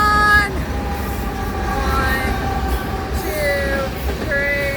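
A BNSF tank train led by warbonnet SD70ACE locomotive 784 rolls past at close range, with a continuous heavy rumble of wheels and cars and recurring high metallic wheel squeals rising and fading.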